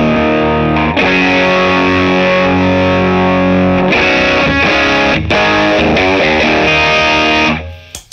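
Bass guitar run through a small Basstar effects pedal, heavily distorted and fuzzy, sustained dense tones with chord changes and a few plucked shifts, loud and continuous, then cutting off at the end.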